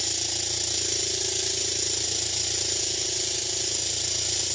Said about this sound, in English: this is why you want to have your bench grinder firmly bolted down